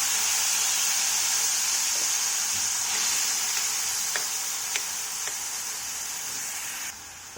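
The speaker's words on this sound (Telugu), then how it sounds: "ఇప్పుడు అదే కళాయిలోకి ఒక టమాటాని చిన్నగా కట్ చేసేసుకొని వేసుకోవాలి." Chopped tomato frying in a kadai, a steady close sizzling hiss with occasional small stirring clicks, no talking.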